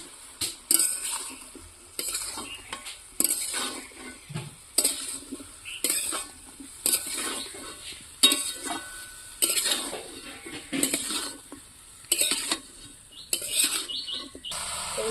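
Eggplant, capsicum and potato being stirred in a pan with a spatula for a small-fish vegetable chorchori, rhythmic scraping strokes roughly every second over a soft sizzle, close and fairly loud, with no talk.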